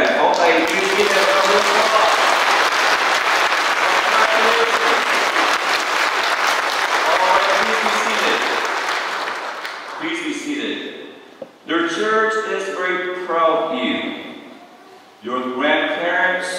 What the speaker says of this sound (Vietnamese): Và chúng ta hãy cho các em này một tràng pháo tay yêu thương.